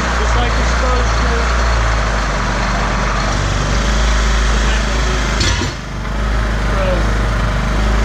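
Honeywell 1600 watt portable generator running at high idle, a loud, steady close-up engine drone with a constant low hum, a brief dip midway, and a person talking over it.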